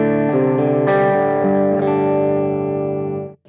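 Electric guitar played through an EP Booster pedal into an amp, with sustained chords ringing out warm and slightly driven and shifting a few times before fading into a brief stop.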